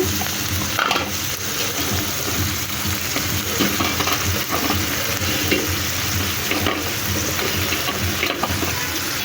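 Cumin paste, ginger and garlic paste and spices frying in a pan with a little water, a loud, dense, continuous sizzle with occasional stirring scrapes close by.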